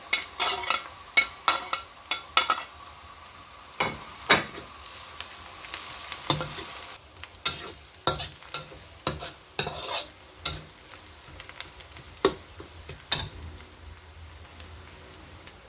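Garlic sautéing in a pan for spicy chicken with kamias, a low sizzle beneath frequent sharp clacks and scrapes of a spatula stirring, close and irregular.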